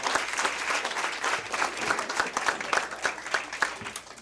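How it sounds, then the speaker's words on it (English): Applause fills a school district meeting room as an audience claps steadily for a league co-champion team, the many hands mingling at moderate, even loudness, with no one talking. "So let's give them another big round of applause."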